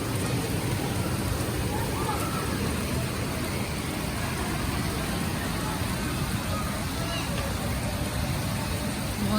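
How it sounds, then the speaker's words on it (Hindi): Heavy monsoon rain pours steadily with a dense, continuous roar close by, the downpour accompanied by lightning; the noise stays loud and even throughout without any pause. "इतनी तेज तो आवाज़ आ रही है इसकी बारिश की"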